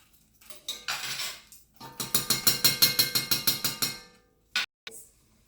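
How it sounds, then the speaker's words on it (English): A spoon scrapes and knocks against a pot while onions and vegetables sauté in butter, first in short bursts and then in a quick run of about a dozen rhythmic clanks, followed by two sharp taps. "I'm going to give it a stir."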